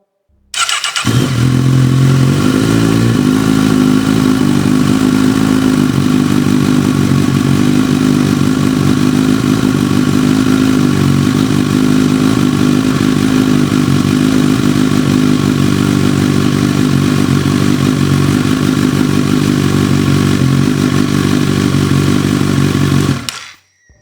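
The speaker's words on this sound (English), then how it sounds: "we'll just crank it up again, and we'll see if we need to add more after that" A Honda CB1000R motorcycle engine cranks, catches and settles into a steady, loud idle with a mechanical clatter, running close by for about twenty seconds before cutting off, with no talk.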